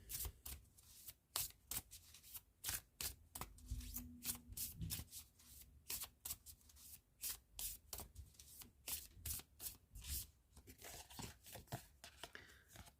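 A deck of Rose Oracle cards is shuffled close up, with quick riffling bursts and soft slaps repeating in a steady rhythm, quiet and without talking.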